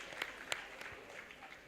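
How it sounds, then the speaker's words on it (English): An audience at the 2024 World Public Relations Forum gives brief, scattered applause, a few distinct claps rising from a quiet room. "Clap for Nigeria."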